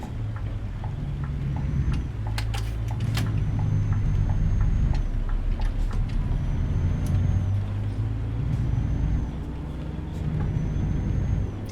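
A Scania truck on a European road runs with a steady low engine drone throughout, with several short sharp hissing bursts of air brake release scattered across it and no talk.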